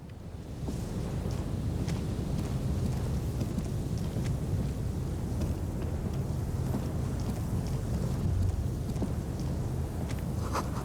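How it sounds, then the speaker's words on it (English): Steady wind gusting across a rooftop in the video game Disco Elysium, a constant broad rushing roar holding at even loudness throughout, with no talk. "Gust of wind, the height feels dizzying."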